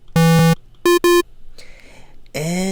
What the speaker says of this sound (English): That sub oscillator sounds like this.